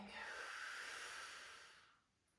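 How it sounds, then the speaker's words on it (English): A single long, soft breath is drawn in during a bedtime yoga session, a breathy hiss that swells and then fades, close and quiet. "Breathing."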